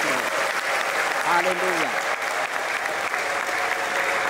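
Wedding guests clap together in sustained, even applause filling the room, while a voice calls out over the clapping.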